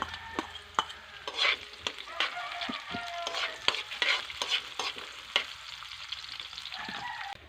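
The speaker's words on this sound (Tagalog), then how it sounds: "Yan, dahil mainit yung mantika. Nauna ko muna dito ang ano, luya o ginger." Ginger and chili frying in hot oil, with a loud crackling sizzle and sharp spattering pops as the pieces are stirred, close by and without speech.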